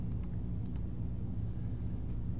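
Typing on a computer keyboard while entering a name in CAD software, heard as a few soft, sparse clicks over a steady low background hum.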